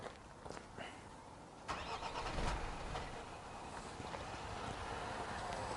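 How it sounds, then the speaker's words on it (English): A car engine cranks and briefly catches, then dies out in a non-start, leaving a low rumble and background noise. "you'll notice there the vehicle tries to start, but it cuts straight out"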